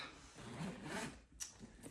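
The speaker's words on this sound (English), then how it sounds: "It has a metal zipper at the top." A metal zipper at the top of a purse is drawn open in one short, raspy pull, quiet and close.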